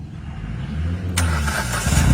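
A Hyundai i10 with a damaged ECU cranks and catches, its engine firing abruptly into a steady running idle after a low rumbling lead-in, heard close with no talking.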